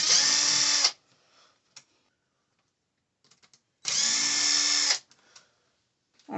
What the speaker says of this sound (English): you're going to have to unbolt your tie rod ends